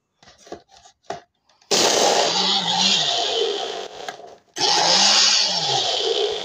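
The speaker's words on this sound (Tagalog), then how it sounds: "Sira ang blender ko." A loud, faulty blender motor whirs in two long bursts with a brief cut between, its pitch wavering, after a few short clattering knocks.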